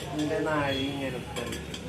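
Steel vessels clink and scrape briefly as they are handled in a home kitchen, a short metallic rattle close by, with a voice speaking over it.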